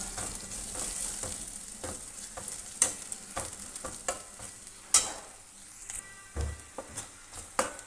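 Ground peanut powder with ginger, garlic and chilli is roasted in a pan, giving a low sizzle broken by repeated scraping stirs and clicks of a spoon, close and irregular, with no speech.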